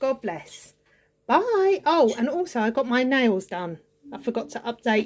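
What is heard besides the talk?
None of the usual background noises is heard.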